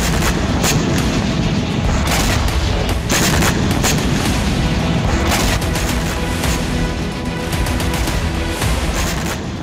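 Explosions from an attack on a Russian military post during the Russia–Ukraine war: dense, loud, continuous booming and rumbling with repeated sharp blasts layered over a roaring background, with no speech.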